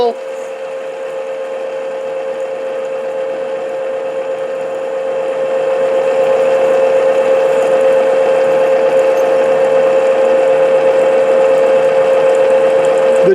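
A drill bores steadily into wood while a whistle is being made, holding a sustained, even whine that grows slightly louder partway through. The sound is close, with no talking over it.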